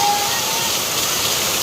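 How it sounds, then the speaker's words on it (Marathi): Heavy monsoon rain pours steadily outdoors, a dense, constant broadband rush like a waterfall that fills the whole short stretch at close range, with no voices over it. "जोरदार पाऊस आलाय."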